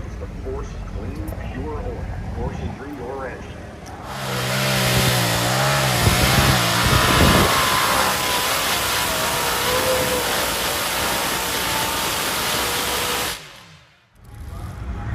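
A light modified pulling tractor's twin engine, built on a Chevy bottom end with a Hemi head, revs up loudly backstage at a national tractor championship, roaring steadily close by for several seconds before cutting off abruptly.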